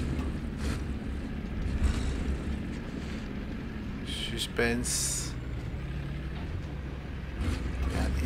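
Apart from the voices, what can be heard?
approaching tank engines in the video game War Thunder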